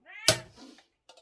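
A cat lets out one close, loud meow, rising and then dropping into a drawn caterwaul, followed by a brief faint chirp after a short pause.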